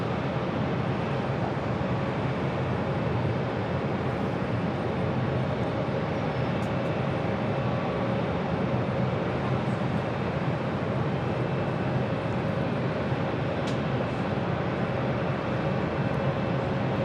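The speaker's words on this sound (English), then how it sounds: "That was KLM Flight 643 coming in from Amsterdam, a 787-10 Dreamliner checking in there." KLM Boeing 787-10 Dreamliner arriving from Amsterdam and landing at JFK: a steady, broad jet roar that holds at an even level throughout, with a faint tonal whine running underneath.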